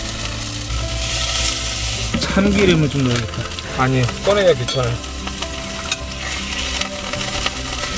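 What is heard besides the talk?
stir-frying meat in a pan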